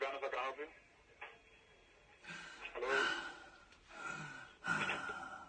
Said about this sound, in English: When they answer, do heavy breathing.